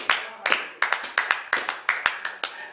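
A church congregation claps in acclamation, about a dozen sharp, slightly ragged claps in a steady beat, close and loud, ringing briefly in a reverberant hall.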